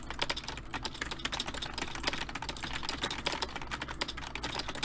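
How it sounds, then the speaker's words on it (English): Rapid keyboard typing from a video game sound effect, a dense stream of quick clicky keystrokes in fast irregular bursts, close and clear with no talking. "I really like that typing sound effect."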